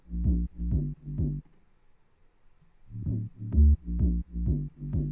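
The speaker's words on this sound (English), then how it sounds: "So anyway, the sub and the bass, they sound like this." Bass house sub and bass layers play a punchy, rhythmic pattern of short, deep, heavy notes, pausing for about a second and a half before resuming.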